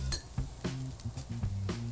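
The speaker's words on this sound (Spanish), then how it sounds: "Voy a mezclar esta salsita." A utensil mixing a seasoned sauce in a dish for rice and beans, with repeated light clinks and scrapes against the dish in an uneven rhythm, close and fairly quiet.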